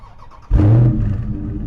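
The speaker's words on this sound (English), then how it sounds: "Press the buttons, make this thing start on its own." A 2021 Dodge Charger 392 Scat Pack Widebody V8 starts remotely with a sudden starter crank and loud bark into a deep, rumbling idle that settles and holds, heard up close outdoors.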